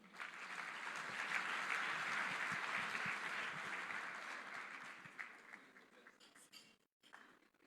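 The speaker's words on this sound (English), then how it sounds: "Give them a round of applause." Sustained applause from a dinner crowd honouring Team Botswana athletes, dense and steady for several seconds before thinning out, with a brief gap near the end.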